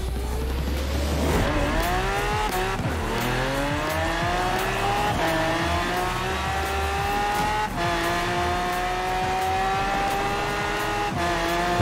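Race cars in Forza Horizon 4 launch together at the start of a Goliath race, a loud continuous roar of revving engines climbing through repeated gear shifts, with the pitch rising and dropping at each change.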